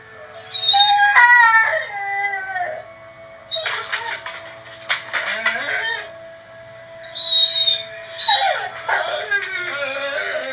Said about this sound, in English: That's like howling.